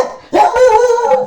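A pet dog barks and whines indoors, a loud, sustained tonal yelp that rises sharply and holds for about a second, alone without talk.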